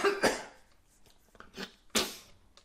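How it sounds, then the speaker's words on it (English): A person coughs several times in quick, rough bursts, harsh and close, with short gaps of near silence between them. "I'm going to hopefully edit out that coughing."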